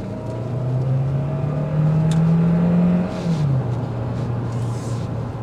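A 2024 Hyundai Tucson Hybrid N-Line with a four-cylinder turbo accelerates, its engine drone rising steadily in pitch, then dipping briefly as it shifts, heard clearly from inside the cabin.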